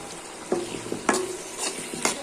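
Ground turmeric, chili, coriander and cumin fry in a pan under a soft, quiet sizzle, with about four rhythmic stirring scrapes from the spoon in quick succession.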